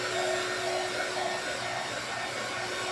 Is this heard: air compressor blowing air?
no